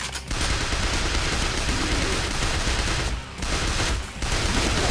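Continuous SMG fire in the zombie shooter School Girl/Zombie Hunter, a dense unbroken rattle of rapid shots with two brief pauses, loud and steady throughout.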